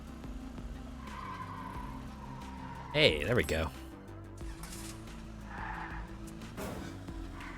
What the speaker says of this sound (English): is it just me or is the police car like making like human car sounds?